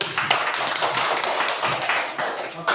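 Young children clapping their hands together during a classroom lesson, a dense, steady patter of many quick claps that stays close and fairly loud for a few seconds.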